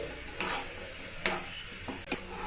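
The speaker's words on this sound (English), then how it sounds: "So now we need to keep mixing until it's a little thick and dry." A spoon stirring mushroom and corn filling with tomatoes in a pan over the flame, giving a few soft scraping strokes against a low steady cooking hiss.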